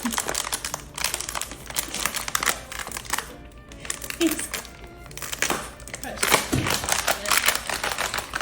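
Paper crinkles and rustles repeatedly and fairly close as a pet plays with it, in irregular bursts across the whole stretch with a few quieter pauses, while someone speaks over it now and then.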